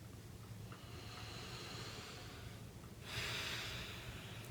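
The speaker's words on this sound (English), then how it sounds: "And breathe." Slow, deep breathing during a tapping session, a long soft inhale followed by a louder, airy exhale, close and alone without talk.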